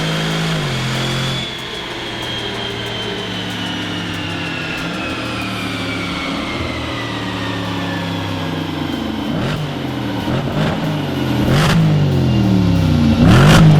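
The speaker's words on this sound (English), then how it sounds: "we've just strapped it back down to the dyno, ready for its second run" A tuned Jaguar XJR strapped to a dyno roars under load, the engine note rising steadily through a long pull with a loud, continuous drone and tyre-and-roller noise building toward the end.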